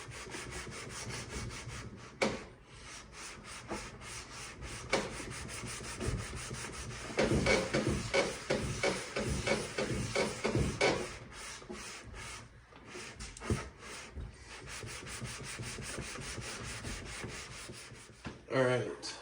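A Subaru cylinder head is ground flat by hand on a clamped stone slab, with a steady, loud rasping rub that keeps up throughout in repeated back-and-forth strokes.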